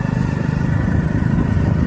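A motorcycle rides along a village road on the way to Vrindavan, its engine a steady loud drone with constant wind rumble throughout.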